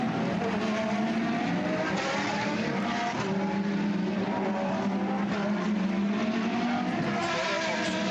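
Lamborghini Super Trofeo race cars pulling away together at Misano, a dense, steady engine roar holding at constant loudness with no talk over it.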